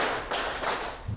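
Group hand claps in a counting clapping game during a teacher training session, a few quick claps blurring into a short burst of dense patter, moderately close, in a reverberant room with no talk.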